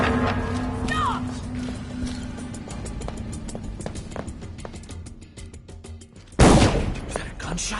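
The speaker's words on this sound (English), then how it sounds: "Was that a gunshot?" A gunshot in the Dishonored 2 video game, a single loud blast bursting late, preceded by quick clattering hits and scuffling game sounds, with voices speaking over parts of it.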